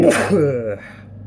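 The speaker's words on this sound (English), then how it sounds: "I gotta sneeze." A single sharp sneeze bursts out close to the microphone, followed by a short breathy tail and a moment of quiet room tone.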